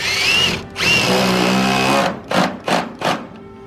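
A power drill drives a screw in close up: a loud whirring run with a brief stop, a second longer spin, then three short trigger pulses to seat it.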